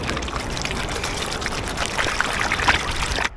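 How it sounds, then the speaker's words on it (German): River water rushes and splashes continuously as clothes are washed by hand in it outdoors, with a steady broad wash of sound and brief louder sloshes near the end. "Deswegen muss man das waschen am Fluss."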